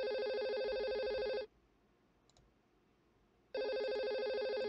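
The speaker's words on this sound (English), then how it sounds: "I'm not taking phone calls while I'm on stream, Wayne." A telephone ringtone during a live-streamed CSGO gameplay session: two loud electronic trilling ring bursts separated by a two-second pause, close and clear, with no talking.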